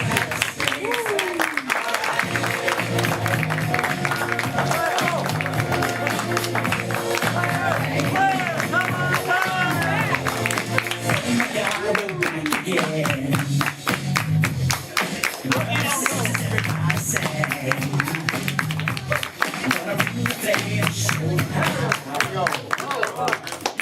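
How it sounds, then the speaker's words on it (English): An audience at a live stage event claps and cheers as players come back on stage, a sustained busy patter of clapping mixed with crowd noise and talking voices. "Players, come on back. We'll clap for them."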